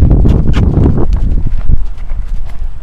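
Horse hooves clip-clopping in a steady rhythm while the horse is lunged on a lead line, close and distinct, with a few fainter trailing steps toward the end.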